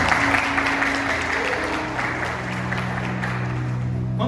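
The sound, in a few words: applause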